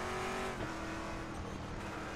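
Saleen S7R GT1 race car engine in RaceRoom at Sepang, a loud steady V8 drone held close and constant for a couple of seconds, with no talking.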